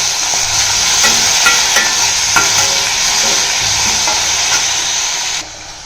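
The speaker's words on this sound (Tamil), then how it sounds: "அதுலேயே நம்ம இந்த தக்காளி காயை போட்டு வதக்கி எடுத்துக்கலாம்" Green tomatoes sautéing in oil in a pan: a loud, steady sizzle and hiss held close throughout, with occasional scraping stirs, dropping off slightly at the very end.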